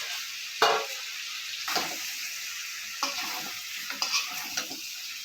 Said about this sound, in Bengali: এখন আলুটা দিয়ে দিচ্ছি